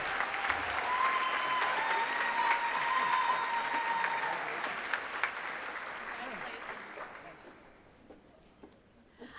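An audience applauds at a live awards night, with dense, sustained clapping that holds for several seconds and then thins out and fades. A faint voice can be heard under the applause.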